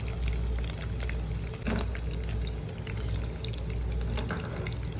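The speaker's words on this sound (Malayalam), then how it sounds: "എല്ലാ മീനും നമ്മൾ അതിലോട്ട് ഇട്ട് കൊടുത്തിട്ടുണ്ട് ആഹാ നമ്മുടെ മീനൊക്കെ ദേ ഒരു സൈഡ് ഫ്രൈ ആയി വരുന്നുണ്ട്" Fish pieces frying in a pan of hot oil for a fish fry, giving a steady, dense bubbling sizzle that runs unbroken and fairly close throughout, with no voices.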